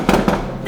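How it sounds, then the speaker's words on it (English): Fireworks going off for a July 4th celebration, two quick booming bursts over a brief moment, heard beneath a voice talking nearby. "If you can hear the fireworks in the background,"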